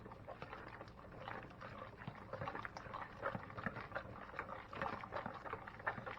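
Milk is whisked little by little into a batter, a faint, steady wet swishing and sloshing that runs continuously with soft irregular pulses.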